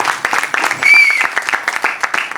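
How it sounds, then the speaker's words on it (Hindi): Audience at a musical group's concert of hits clapping for five performers, a brief burst of hand claps mixed with crowd voices and a short whistle-like tone in the middle. "अब तालियां 5 कलाकारों का जो पंच है उसके लिए"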